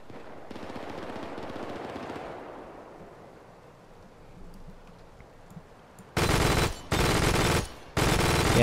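Gunfire in the military shooter game Arma 3: after a long stretch of quieter ambient noise, three loud sustained bursts of automatic fire ring out in quick succession near the end, with no talking.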